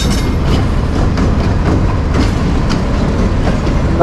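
Karam Express pulls into Lahore Junction station, led by an American locomotive. Rail clatter and rumble roll steadily and loudly, with a few faint wheel squeals and no talk.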